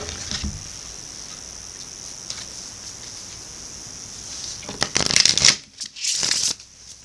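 Cards being shuffled, a soft continuous riffling that swells into a louder, rapid flurry near the end.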